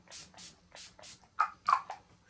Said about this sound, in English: I'm also going to take Urban Decay All Night Setting Spray.